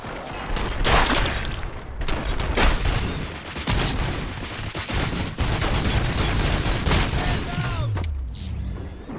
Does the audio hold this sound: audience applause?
no